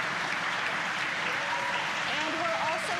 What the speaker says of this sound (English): obviously confirmed by the loud cheer behind us here at Mission Control Hawthorne